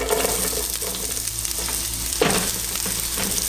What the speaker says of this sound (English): I'm gonna fry my onions until it starts losing.